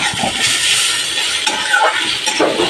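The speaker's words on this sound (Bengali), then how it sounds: "আমি আর একটু নেড়ে নেবো তাহলেই হয়ে যাবে জিনিসটি" Pointed gourd cooked with poppy seed paste sizzles steadily in a pan while being stirred, giving a continuous close hiss with faint scraping strokes.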